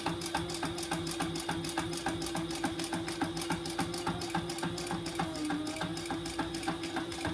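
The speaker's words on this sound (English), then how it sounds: "And I'm back stitching over this area here." A sewing machine back stitches a slim duffle bag, its needle hammering in a fast, even mechanical rhythm throughout, close and steady with no talking.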